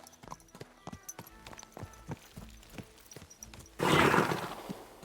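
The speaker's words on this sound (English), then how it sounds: "What is happening with this horse?" A horse's hooves clip-clop in the medieval game Kingdom Come Deliverance 2, a steady rhythmic series of faint hoof beats, then a loud breathy whinny bursts in near the end.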